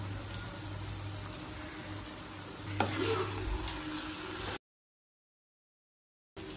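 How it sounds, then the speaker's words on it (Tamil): Tomato rice being stirred in a pan with ghee and coriander, a soft continuous sizzle with a few scraping spoon strokes, quiet and without talk before a short silent gap. "நல்லா மிக்ஸ் பண்ணிக்கலாம்."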